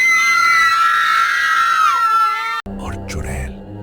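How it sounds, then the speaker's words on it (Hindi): A loud, drawn-out scream from a Hindi horror story about a bride and a witch, echoing through a forest as a chest is touched; the high wailing cry holds for over two seconds and then cuts off abruptly into low rumbling. "जैसे ही शंभू ने संदूक को छुआ, एक चीख पूरे जंगल में गूंजी"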